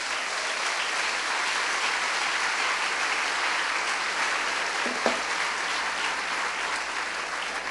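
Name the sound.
congregation applauding in church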